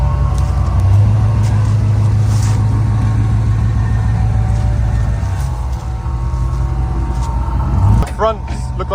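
A square body Chevy C10 truck idles with a steady low engine drone that shifts and fades as it pulls away, ending with a brief rev near the close; people talk faintly over it.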